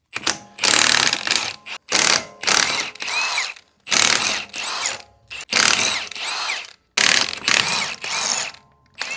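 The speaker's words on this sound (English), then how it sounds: "I'm going to remove the rear wheel because we need to get to the bolts that are up in this" A ratchet removes the rear wheel of a Nissan Z, sounding in several loud, close bursts of rapid clicking separated by short pauses, with no talking.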